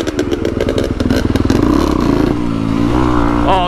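A Yamaha YZ250 dirt bike ridden on trails, its two-stroke engine loud and close, revving up in choppy bursts before settling into a strained, rising drone with no voices.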